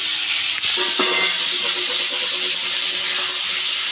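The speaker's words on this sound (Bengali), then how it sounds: "দেখুন ঝিঙেটা একটু ভাজা ভাজা হয়ে যাচ্ছে" Ridge gourd frying in a pan, a loud, dense, continuous hiss of sizzling oil close up, with a couple of brief utensil knocks near the start.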